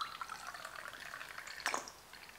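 Hair colour processing solution poured into a tint bowl: a soft, steady liquid hiss runs throughout, with a brief louder splash near the end, close and fairly quiet.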